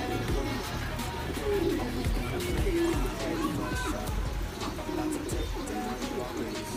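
Racing pigeons, including a hen, coo softly in a loft amid a busy mix of bird calls, wing flutters and shuffling, with talk running throughout.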